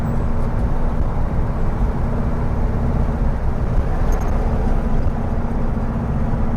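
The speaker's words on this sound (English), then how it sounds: "Engine sounds good. Everything sounds healthy." The engine of a 1964 VW Beetle runs with a steady, loud droning rumble and a constant hum, as if heard while driving, with no talking.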